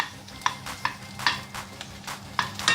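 Scampi cooking in a hot pan, a soft continuous sizzle punctuated by repeated sharp scrapes and clinks of stirring, close and moderately loud, no talk.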